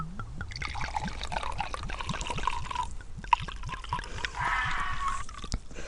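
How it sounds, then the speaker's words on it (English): Wine trickles from a bottle into a glass outdoors in a graveyard at night, a soft, continuous gurgling pour lasting several seconds with small splashes, close and fairly quiet. "Let's pour a glass of wine."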